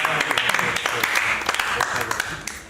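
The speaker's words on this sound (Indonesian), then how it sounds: "Tepuk tangan dong, bangga dong" Scattered clapping from a small group during a livestream hangout, uneven hand claps punctuating loud chatter and laughter that runs across the whole moment.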